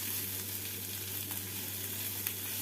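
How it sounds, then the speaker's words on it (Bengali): Chopped tomato fries with onions and garlic in a pan, a steady, moderately faint sizzle with a low hum beneath and an occasional light tick from stirring. "টমেটোটাকে অল্প ভেজে নেব।"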